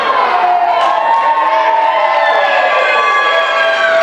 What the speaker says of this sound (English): the Lady Red faithful across the way behind the Lady Red bench applaud that call